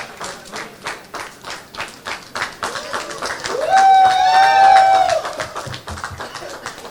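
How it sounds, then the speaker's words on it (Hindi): Audience clapping in welcome at a Big FM radio launch event for a singing contest, a steady patter of hands across the whole stretch, joined midway by a bright sustained tone, as if from a whistle or feedback. "तालियों से स्वागत।"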